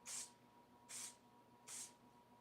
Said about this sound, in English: I am going to use some AirTac spray tack to